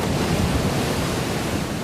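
Storm-driven waves and gusting wind on the open sea, a dense continuous roar of surf and wind buffeting with no clear breaks, loud and steady throughout.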